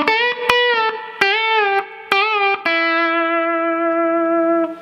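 A clean, sustained electric guitar plays a lead phrase, with several plucked notes and bends ending on a long ringing note, played alone and clearly.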